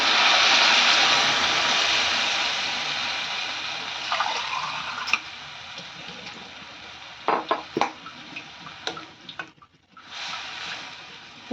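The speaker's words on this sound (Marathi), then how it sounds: "तर आता आपण याच्यामध्ये एक ग्लास पाणी घालून घेऊया" Water poured from a glass into a pan of sprouted moong usal, a steady splashing pour that fades away, followed by scattered drips and light clinks of the vessel.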